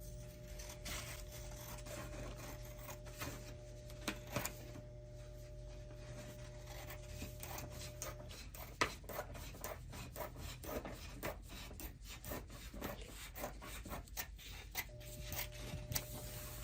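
Sublimation transfer paper being trimmed at the edges, faint close rubbing and rasping cuts repeating steadily with a few sharper snips, very quiet throughout.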